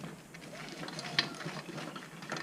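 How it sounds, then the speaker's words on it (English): A jack ratchets in quick, light mechanical clicks while lifting the skid plate of a snowmobile, close and fairly faint, with one sharper metallic click partway through. "there's a skid plate up underneath here that I'm jacking up"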